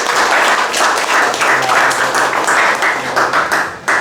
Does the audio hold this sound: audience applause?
yes